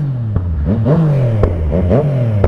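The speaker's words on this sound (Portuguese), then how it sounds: "Cada acelerado, cada estralo desse é um lança-chamas que sai do escape." Car engine revving hard with exhaust pops and backfires, a loud droning rev rising and falling while sharp cracks burst out at irregular intervals, close and continuous with no speech.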